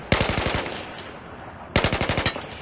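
Two crisp, close bursts of M416 rifle fire in Battlefield 4, each a rapid string of about eight evenly spaced shots, separated by a quiet pause of roughly a second.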